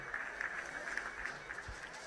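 Crowd at a canoe marathon world championship in Brandenburg an der Havel, Germany cheering a paddler from Japan; a steady, fairly distant wash of applause and crowd noise with scattered claps, fairly faint throughout.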